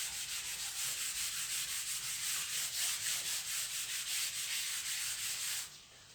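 Rubbing writing off a classroom board, a steady rapid back-and-forth scrubbing that runs for several seconds and then stops abruptly near the end.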